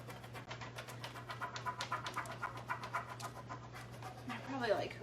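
Several dogs panting rapidly indoors, a quick rhythmic huffing close by and moderately quiet, with a low steady hum behind it and a brief whimpering sound near the end.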